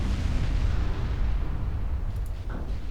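Naval ship guns fire in Ultimate Admiral Dreadnoughts during a single-ship gun duel, a dense, continuous low rumble of heavy cannon booms rolling together at steady loudness.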